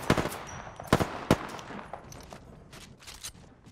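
Gunfire in the video game Apex Legends, with several sharp loud shots and short bursts in quick succession, followed by fainter distant shots and game sounds.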